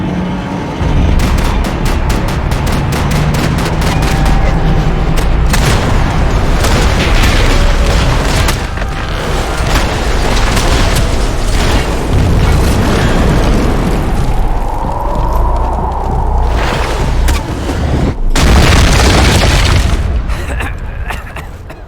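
Loud gunfire and booming explosions in the Max Payne 3 video game, rapid bursts of shots and heavy blasts filling a firefight, with game characters shouting over the din.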